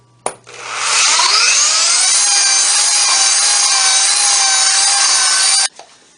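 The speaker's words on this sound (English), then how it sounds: "The top and bottom pieces of the table are sanded smooth using a belt sander with a 120 grit sanding belt." A belt sander fitted with a 120 grit belt sands wooden table pieces, starting with a click, ramping up to a loud, steady abrasive roar held for several seconds, then cutting off sharply.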